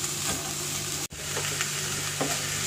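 Sliced carrot, cabbage, capsicum and onion stirred in a hot pan for homemade shawarma filling, a soft steady sizzle with a few scraping strokes of the spoon and one brief clatter, close and without talk.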